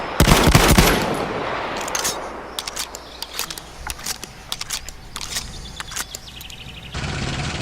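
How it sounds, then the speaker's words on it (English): Heavy vehicle-mounted machine gun fire in Battlefield 1: a loud close burst at the start followed by quieter scattered rapid shots and clicks. "Heavy machine guns from vehicles."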